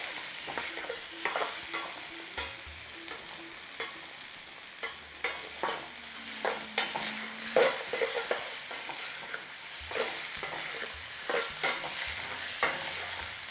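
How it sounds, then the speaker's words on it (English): Chicken balti pieces stir-fry in an extremely hot pan where the oil is igniting, giving a steady loud sizzle broken by repeated scraping and stirring clatter. No voices are heard. "as I'm turning it in, it's starting to ignite the oil"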